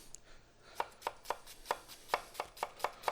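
A knife chops an onion on a cutting board for spaghetti with meat sauce, giving about ten evenly spaced, crisp taps that start slow and quicken slightly, close and clear over a faint room hiss, no talking.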